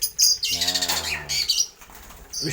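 A Javan pied starling swoops inside an indoor home aviary, its wings flapping in loud close bursts, with bird chirps and calls around it and a short tonal voice-like sound in the middle.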